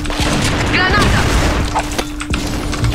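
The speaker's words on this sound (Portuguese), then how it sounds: "Granada!" A grenade goes off in a video game as a loud, close boom, with some gunfire-like bursts and voices over the top.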